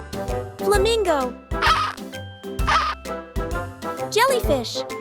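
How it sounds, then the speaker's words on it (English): A flamingo calling: loud, nearby honking squawks in several separate bursts with brief gaps between them, some rising and falling in pitch. "Flamingo."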